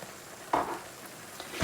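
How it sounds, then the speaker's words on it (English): Tinned chopped tomatoes go into a sizzling paella pan: a steady frying hiss with a sudden wet splash and sizzle burst, then another loud spatter near the end. "I'm also now going to add my tin chopped tomatoes."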